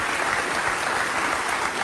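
Brief burst of steady clapping during a podcast, a dense continuous patter of hands at moderate loudness with no talking over it.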